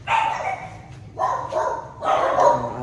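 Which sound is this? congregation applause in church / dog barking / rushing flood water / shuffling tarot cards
dog barking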